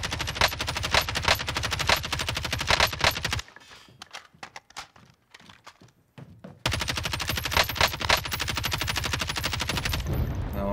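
Rapid automatic gunfire in the video game Call of Duty Warzone, dense loud bursts of machine-gun fire, a short gap with scattered shots, then another sustained barrage.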